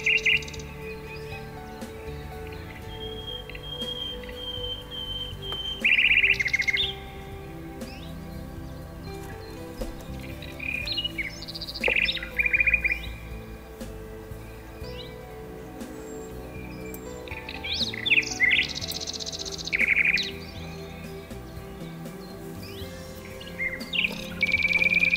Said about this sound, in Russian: Слушаем трели соловья и пение других птиц.